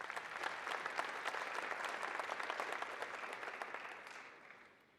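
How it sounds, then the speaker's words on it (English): Applause from an audience at a university sports colours and awards ceremony rolls on as a dense, steady clatter of clapping, then fades away at the end. "A round of applause."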